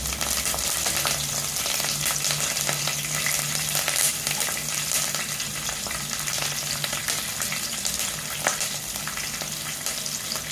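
Kashmiri chillies, chopped fine, and curry leaves fry in hot oil with cumin seeds, a steady close crackling sizzle running unbroken with a low hum underneath and no talking.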